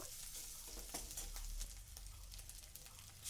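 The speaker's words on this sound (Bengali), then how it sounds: "এবার মশলাটাকে একটু তেলের মধ্যে ভাজা ভাজা করে নেব" Ground spices, coriander, turmeric and red chilli powder, sizzle and fry in hot oil in a pan, a steady close crackling hiss with occasional stirring scrapes, no voices.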